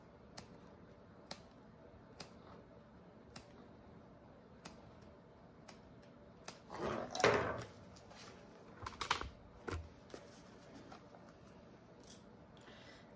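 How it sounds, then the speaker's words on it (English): Scissors snip fabric within a seam allowance for a waist pack, heard as sparse, crisp clicks spaced every second or so, with a louder cluster of cutting and rustling midway. "Just don't do too big of snips"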